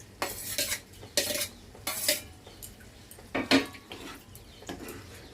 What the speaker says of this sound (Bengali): এবার এর মধ্যে আমি পনির টুকরোগুলো দিয়ে দেবো।